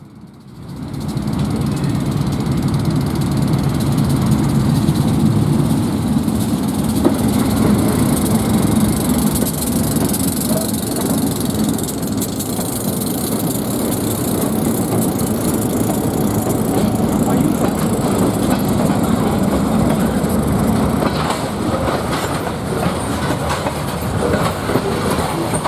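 An Ohio Central freight train departs eastward on the old Baltimore and Ohio main line toward Cambridge, with steady, loud diesel engine rumble and rolling wagon noise that swell in and hold for the full stretch.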